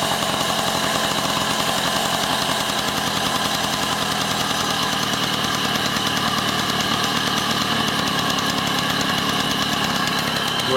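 A two-stroke MBK 51 XR moped engine runs steadily and loud at close range, a buzzy rattling drone holding without pause and no voices over it.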